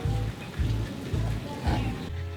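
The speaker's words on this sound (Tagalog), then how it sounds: "Umuulan pa kasi." Rain falls steadily at a beach in Bogo City, a constant hiss of drops spread across the sound, with a low rumbling beneath it that swells and fades in regular pulses.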